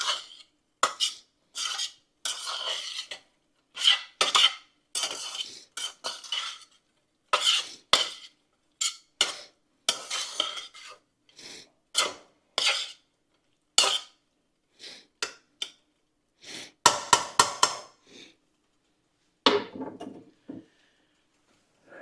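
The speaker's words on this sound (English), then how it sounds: "I'm gonna put some red pepper flakes on it and get this all mixed together" Noodles being tossed and stirred with red pepper flakes in a pan, utensils scraping and clinking against metal in quick irregular bursts separated by brief pauses, close and clear with no talking.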